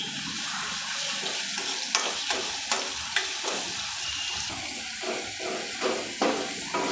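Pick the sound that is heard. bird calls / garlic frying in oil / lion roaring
garlic frying in oil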